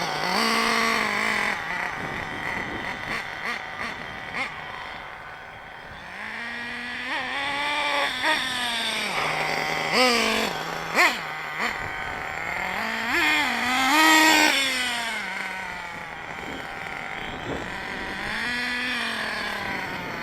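An engine ticks over at a steady idle after its mixture is set a quarter turn leaner, with a wavering, buzzy pitch and a few small rises and blips throughout.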